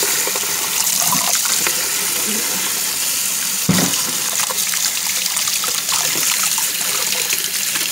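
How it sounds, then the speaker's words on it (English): Running tap water splashes steadily over a spoon being rinsed in a sink, a continuous close trickle and gush with a brief louder splash partway through. "Now we gotta wash it. We're washing it."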